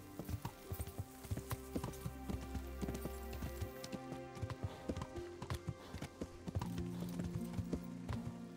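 Horse hooves clip-clop in Kingdom Come: Deliverance as a steady, evenly paced stream of hard taps over a low ambient bed, with a brief neigh-like tone near the start.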